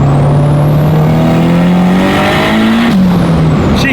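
A 600whp Honda Civic engine revs hard on a dyno in fifth gear, a loud, steady rising drone that climbs in pitch for about three seconds, then drops abruptly as the throttle lifts.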